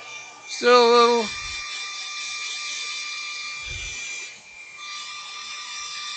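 A Scotch-Brite pad rubs over the painted surface of a turned wooden goblet, giving a steady, close abrasive hiss that runs almost the whole clip, with a short louder tonal squeak near the start.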